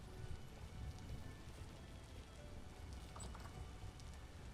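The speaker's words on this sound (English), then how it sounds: "I'm hearing my chainmail and the rain. Like the combination of those two sound effects" Steady rain from the video game Vintage Story, a dense continuous patter with scattered light metallic jingles like a character's chainmail, heard alone without talk.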